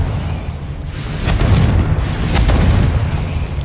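Confringo blasting curse going off in Hogwarts Legacy, a booming explosion with a deep rumbling low end that swells and holds loud through the clip, with two brighter bursts cracking over the sustained roar.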